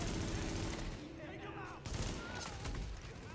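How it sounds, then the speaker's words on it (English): Gunfire and explosive bursts from a grenade launcher in the Tom Clancy's The Division video game, a dense, continuous barrage with a sharp blast near the middle and a voice talking faintly underneath. "Let's kill this guy with a grenade launcher"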